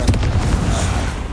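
A Confringo blasting spell explodes in Hogwarts Legacy, a loud close boom with rumbling bursts that fill the whole moment, dense and heavy with no gaps.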